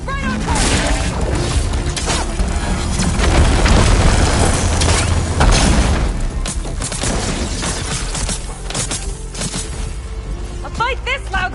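A detonation in Horizon Forbidden West's Burning Shores erupts as a heavy booming blast with crashing debris that swells and rumbles for several seconds, while a voice speaks over the start and end.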